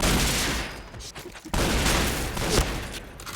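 Dense, continuous video game gunfire fills the whole stretch, a loud rapid fusillade with a brief dip near the middle before the shooting surges back, with faint voices partly buried beneath it.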